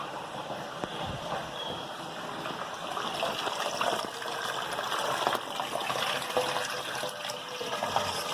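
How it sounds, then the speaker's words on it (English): Water flows into an aquarium through an inlet at the back, a steady close splashing gush that holds level throughout with no talking. "And the water flows up"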